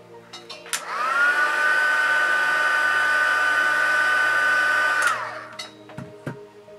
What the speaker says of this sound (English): then heat set that